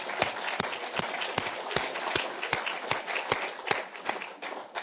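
An audience at a project launch event claps, with a bed of scattered applause under sharp, evenly spaced individual claps that stand out close by in a steady rhythm.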